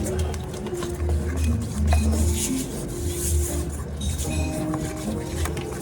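Lemon juice stirred into eggs and vanilla in a mixing bowl for lemon biscotti: a spoon scrapes and clinks steadily against the bowl over a low, constant hum.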